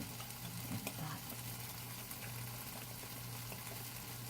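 Protein pancake batter being stirred and mixed in a bowl, a steady, fairly quiet wet scraping and churning that continues evenly throughout, with no talking.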